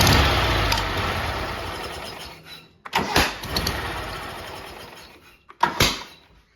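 A big mower engine runs loudly and close, its roar cutting out abruptly and restarting in short bursts, with brief sputtering gaps between runs.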